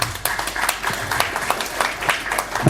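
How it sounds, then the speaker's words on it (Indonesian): Scattered audience clapping at a university communication seminar on radio, a modest roomful of hands clapping unevenly with distinct individual claps, moderately loud and without speech. "Tepuk tangan dulu dong yang nanya."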